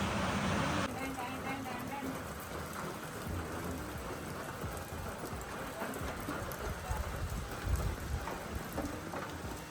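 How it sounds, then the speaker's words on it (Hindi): Steady rain falls on an apple orchard in Himachal hills, a dense continuous patter filling the scene, with a few louder gusts and some indistinct noise underneath. "बारिश भी शुरू हो गई है"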